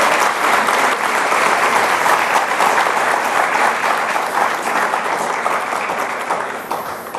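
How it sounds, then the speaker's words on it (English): A large conference audience gives a warm, sustained round of applause, dense and even throughout before tapering slightly at the end. "Please give him a very warm round of applause."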